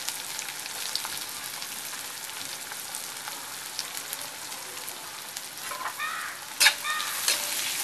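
Onion hits hot oil with green chillies in a pan, a soft continuous sizzle with light popping and a few sharper spatters near the end.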